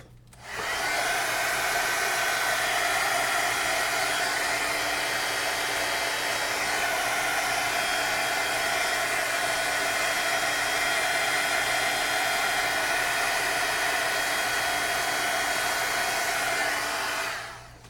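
A heat tool dries craft paint with a steady, loud rushing blow that runs unbroken for about sixteen seconds and then cuts off, with no talking.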